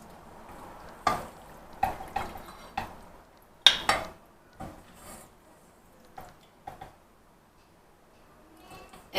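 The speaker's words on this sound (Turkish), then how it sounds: "Şöyle bir karıştırayım yemeğimi." Scattered clinks and scrapes of a utensil against a pot, irregular and close, with quiet pauses between strokes.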